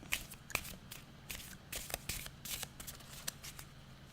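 Cards being shuffled close by in a café setting, a quick run of riffling, flicking bursts repeating steadily, with faint voices in the background.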